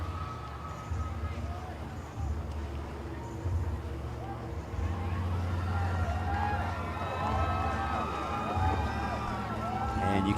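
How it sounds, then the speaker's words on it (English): Spectators cheer and shout at a waterjet world cup race, with a broad roar of crowd noise and engine drone under overlapping calls, growing louder and more excited toward the end. "And you can hear crowds going nuts here."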